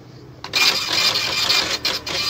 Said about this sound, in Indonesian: Jadi otomatis print akan keluar lagi